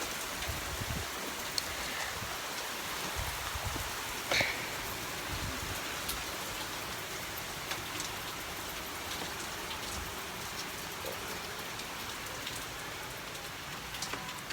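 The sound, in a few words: heavy rain falling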